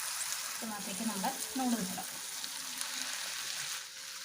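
Noodles go into a pan of frying vegetable masala for homemade wheat noodles, giving a soft steady sizzle with a few brief stirring scrapes near the start, fairly quiet and close.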